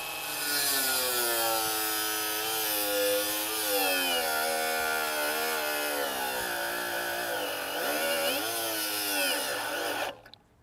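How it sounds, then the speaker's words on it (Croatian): A Bosch GWS 18V-8 cordless angle grinder cuts steadily with a loud, continuous whining grind that shifts in pitch under load, then stops abruptly near the end. "ja ću probati na sledećem rezu da zaustavim brusilicu da vidimo kako će"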